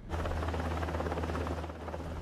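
Rescue helicopter hovering over rising floodwaters during a California storm, a steady, low, throbbing rotor and engine drone heard at moderate distance, with no talk.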